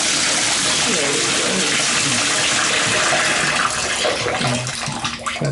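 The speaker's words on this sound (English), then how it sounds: "See if I can shut this down without getting wet." A shower runs with a loud, steady rush of hot water, then is turned off and the spray fades to drips. A voice speaks faintly under the noise.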